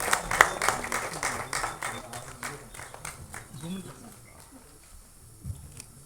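An audience at an album song screening festival bursts into brisk clapping that fades out over several seconds, with some voices underneath.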